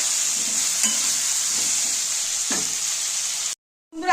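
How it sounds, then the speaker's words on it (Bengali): Potatoes frying in hot oil for a Bengali-style fish curry with potatoes, a steady close sizzle with a couple of stirring scrapes, cutting off abruptly near the end before a brief return. "দেখো আলুগুলো প্রায় ভাজা হয়ে আসছে।"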